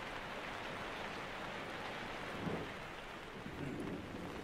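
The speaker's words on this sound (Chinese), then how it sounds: "是哦，下雨了，突然就下雨" A sudden rain shower falls as a steady, soft wash of noise, fairly faint and distant, with a slight swell midway and no voices over it.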